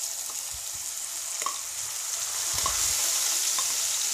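Grated raw mango being sautéed in a pan with asafoetida for mango thokku, a steady close sizzle with soft stirring scrapes and a few light clinks, no talking.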